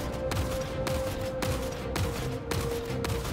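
Ship-mounted weapons fire in Star Citizen, a series of sharp blasts in a regular rhythm of about six shots over a constant engine hum, loud and close.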